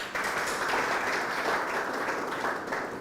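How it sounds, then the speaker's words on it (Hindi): An audience at a farmers' quiz show on farming and animal husbandry gives steady, even applause to welcome the guests. The sustained clapping holds at moderate loudness throughout, with no voices over it. "तो देखिए जोरदार तालियों के साथ अपना भी स्वागत कीजिए"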